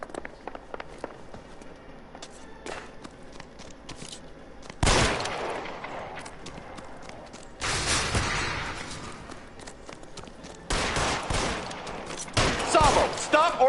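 Gunshots ring out in a PS4 video game cutscene, heavy loud blasts in several separate bursts between quieter stretches with footsteps and movement.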